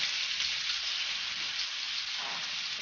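Chicken-free pan of zucchini and mushrooms sautéing as a tablespoon of vinegar goes in, giving a steady, close hiss and sizzle that flares briefly near the end, with no talking.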